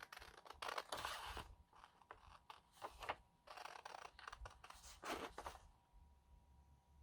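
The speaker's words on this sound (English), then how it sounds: "And I'm going to cut this out now." Scissors snip through paper for a collage, close and quiet, in irregular clusters of short crisp cuts with brief pauses between them, ending in near silence.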